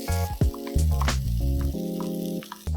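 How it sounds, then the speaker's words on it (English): Raw, half-crushed green peas sauté on high heat in a pan. A steady sizzle runs under loud, tonal background music. "So I'm just going to saute them for about 2 minutes."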